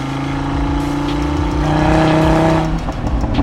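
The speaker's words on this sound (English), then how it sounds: "the exhaust has so many crackles and pops, especially when you leave it in the sports gearing" An Audi RS3 in dynamic mode with its sport exhaust, a loud close engine note that rises and falls with throttle, with some crackle and pop texture in the sound.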